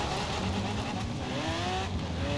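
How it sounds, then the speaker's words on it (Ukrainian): Mitsubishi Lancer driving in Forza Horizon 4, its engine droning steadily with rising and falling pitch as it accelerates, loud and continuous, with other cars' engines mixed in. "Дивіться, заїжджає на ланцері."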